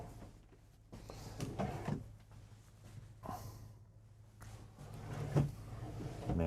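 Soft-close dovetail drawers in a dresser with a solid-surface top, inside a 2026 Newmar New Aire 3547 motorhome, are slid and shut, giving several soft, muffled bumps and thuds spread across a quiet room.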